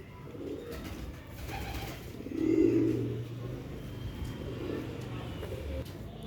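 Soft, low cooing from a paralysed female pigeon rises briefly in the middle, over a steady outdoor background hum with faint rustling.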